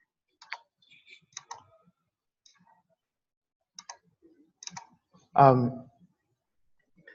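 Computer mouse clicks while working in a spreadsheet: a few sparse, faint sharp clicks spread across several seconds, with a brief burst of voice midway.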